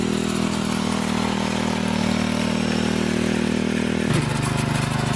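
A Sraja 4.8 HP R111 Deluxe power weeder engine runs steadily in a farm field, a continuous loud mid-pitched drone with no pause, its tone shifting slightly near the end as the load changes.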